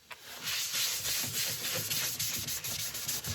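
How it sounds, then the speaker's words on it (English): Shellac-based sealer being applied liberally to a woodturning piece, a soft continuous rubbing and hissing as cloth or brush works over the wood surface, close and fairly quiet, with slight swells in intensity. "This is a shellac base sealer, which I'm going to put on fairly liberally."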